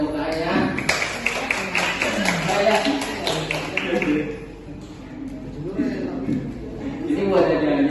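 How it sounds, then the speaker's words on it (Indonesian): Brief clapping from a group of children in a classroom role play, a patter of hand claps in the first seconds beneath overlapping chatter and voices that continue throughout. "Boleh minta tepuk tangannya."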